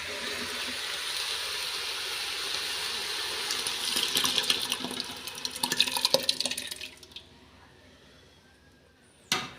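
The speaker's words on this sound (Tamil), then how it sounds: "இப்போ குக்கரில் வந்து கொஞ்சமாக தண்ணி சேர்த்து அதையும் கலந்து ஊற்றிடலாம்" Water is poured into a pressure cooker while cooking lentils and greens, a splashing, gurgling fill that builds and then stops abruptly near the end, followed by a short clatter.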